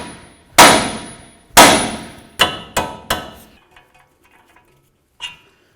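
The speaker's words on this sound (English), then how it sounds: "Now we're going to take a hammer and we're going to hit right here on the knuckle." A hammer strikes a steering knuckle on a 2007-2014 Cadillac Escalade: two loud ringing metallic blows, then three quicker sharper hits, a few faint taps, and one final clank, each alone and close.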